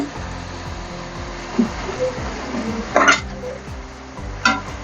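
Chicken pieces for butter chicken lightly frying in a pan, a soft steady sizzle broken by a few brief louder clatters and stirring noises, with no talking.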